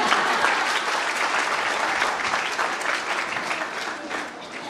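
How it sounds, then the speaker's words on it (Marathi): Audience clapping at a student literary conference at a high school and junior college: dense, even applause from a large crowd that carries on throughout and eases off slightly near the end. "टाळ्या वाजवत तरी चालतं ना."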